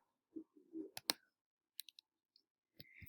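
A computer mouse clicks faintly in a near-silent room: a couple of close clicks, then a quick cluster of three more, with a few soft handling sounds in between.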